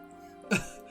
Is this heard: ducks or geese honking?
no